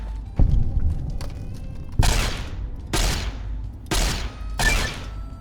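Gunfire in the video game Fallout New Vegas: five loud, sharp shots spaced roughly a second apart, each a broadband burst with a decaying tail over low rumble.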